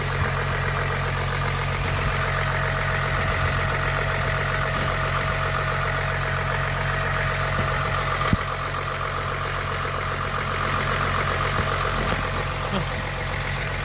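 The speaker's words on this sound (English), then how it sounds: "Pump's still making a bit of noise. I assume there's still some air in there" A Jeep WK with the CRD diesel engine idles steadily at close range, its power steering pump whining continuously over the running engine after a steering line replacement, with faint voices in the background.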